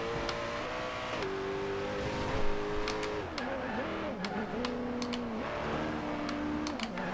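A Koenigsegg Agera in Forza Horizon 2 on Xbox One, its engine tone climbing and dropping through repeated gear changes as it accelerates hard, steady and loud, with sharp clicking taps from a controller or keyboard scattered over it.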